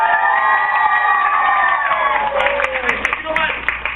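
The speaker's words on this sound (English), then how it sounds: "Cheer for them, guys." A large audience roars with cheering, whoops and shouts, a loud continuous crowd wash with scattered claps for performers running laps around a track.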